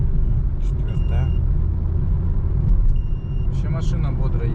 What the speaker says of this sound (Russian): Вообще машина бодро едет.